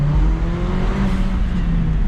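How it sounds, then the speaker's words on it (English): A modified car's engine revs hard with a blow-off valve. The loud, continuous engine roar sits close by for the whole moment, and no one speaks. "I just can't get over that sound. Just that raw power with the blow-off valve."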